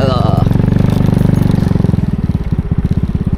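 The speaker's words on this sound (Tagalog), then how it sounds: "May motor pala." Motorcycle engine close by at a village fiesta, a loud pulsing putter whose rhythm speeds up and slows slightly as it idles and moves, with a voice talking briefly over it.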